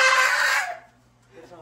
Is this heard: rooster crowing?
yes